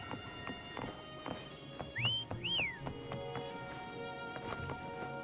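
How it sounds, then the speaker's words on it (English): Two rising-and-falling whistles call a horse in the game Wuthering Waves, sounding close over a busy backdrop of soft clops, taps and ambient tones. "Try whistling."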